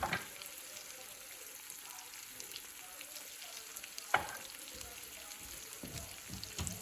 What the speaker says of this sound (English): Next you want to crack the 2 eggs into the middle, just because that's where the heat is the most